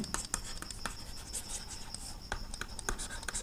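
Pen writing a trigonometry answer by hand on paper: a quick run of close, quiet, scratchy strokes and taps with no voices.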